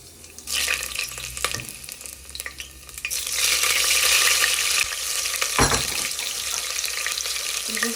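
Whole cumin seeds and green chilies fry in hot mustard oil in a pan while being stirred. The sizzle is steady and close, growing louder midway, with a few scraping stirs and no talk.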